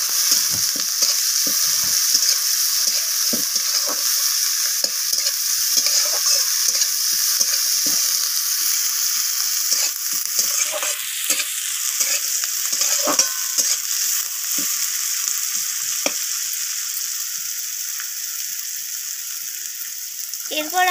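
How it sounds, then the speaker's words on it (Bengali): Onions fry in hot oil in a pan with a constant close sizzle, punctuated by repeated light scrapes and clicks of stirring, with no talk over it. "তো পেঁয়াজটাকে আমি হালকা হালকা করে একটু ভাজা ভাজা করে নেব"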